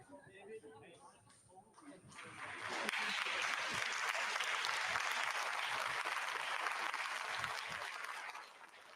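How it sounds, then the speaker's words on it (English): Applause breaks out in a rocket launch mission control center after a Vega-C launch carrying the Sentinel-1C satellite, rising after a few seconds into steady, dense clapping that fills the room, with talk underneath at the start. "Getting some clapping here in the Mission Control Center"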